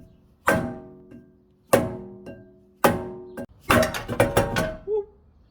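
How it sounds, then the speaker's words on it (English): A brake rotor on a supercharged 2014 Audi Q5 is struck on its edges, giving sharp metallic clanks: three spaced single hits, then a fast cluster of four or five ringing blows, close and loud. "we can remove the rotor by hitting the rotor on the edges"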